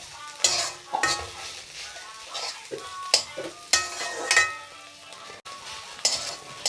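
Taki fish bharta stirred and fried in a wok, with repeated scraping strokes of a spatula and a soft sizzle between them, close and fairly quiet.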